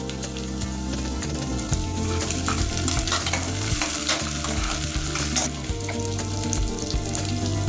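Curry leaves crackle and sizzle loudly in hot oil in a pan for a vegetable curry gravy served with puri, a steady dense frying hiss with stirring scrapes throughout and no talk.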